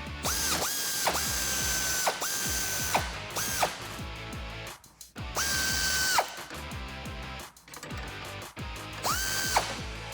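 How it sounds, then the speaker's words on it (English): Ratchet wrench clicking in quick bursts while loosening a rear leaf spring bolt on a 2005-2021 Toyota Tacoma, with close, loud pawl ratcheting strokes separated by short pauses and rising squeals in between. "you can use a wrench like we saw earlier and pry on the head of it as you loosen"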